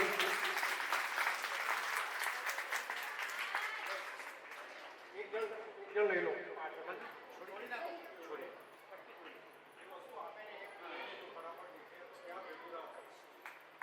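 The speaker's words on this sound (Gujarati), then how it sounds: "તાળીઓથી વધાવી લઈશું." A crowd at a primary school's annual function in Sarsavani village claps in a dense, sustained burst that slowly thins, while voices talk over it throughout.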